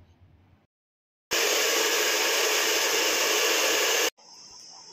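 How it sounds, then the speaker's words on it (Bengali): A hair dryer blows on recently towel-dried, smoothed and straightened hair, starting abruptly with a loud, steady broadband roar for about three seconds and then cutting off. After a short pause a quieter whir follows, with no talking. "টাওয়াল ড্রাই হয়ে যাওয়ার পর এবারে আমি ড্রায়ার দিয়ে শুকিয়ে নেব"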